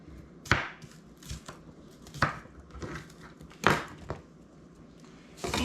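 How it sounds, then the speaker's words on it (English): A knife chops a hunk of cabbage into chunks on a board. A handful of faint, sharp cuts land at uneven intervals, each one quick and close, in a quiet kitchen. "And a hunk of cabbage. Cut into a few chunks."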